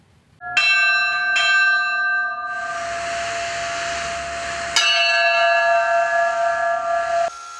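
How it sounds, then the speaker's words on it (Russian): A church bell tolls a memorial knell in slow, resonant strikes, each ringing out and fading beneath a steady hiss of sustained tones, loud and close. "Поминальный звон в честь Тамары Степанской"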